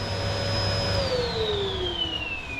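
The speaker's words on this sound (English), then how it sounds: "my vacuum's struggling now" Vacuum cleaner sucking soot out of a blocked clock stove, a steady loud whine with a low rumble whose pitch slowly drops as the motor strains.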